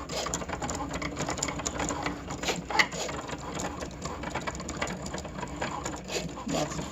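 A Cricut cutting machine slicing a layered vinyl sticker gives off a steady, fast mechanical whir and chatter of small back-and-forth movements, fairly quiet and continuous throughout.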